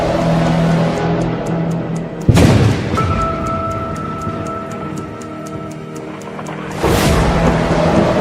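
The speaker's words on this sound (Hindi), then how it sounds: "लगता है तूफान आ रहा है" A storm rolls in over a village hut: two heavy thunderclaps crack and rumble apart from each other over a constant hiss of rain, loud and close, with no talk.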